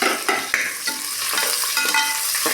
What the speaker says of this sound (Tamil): பாருங்கள், வெங்காயம் கொஞ்சம் ஓரளவு வணங்கிருச்சுங்க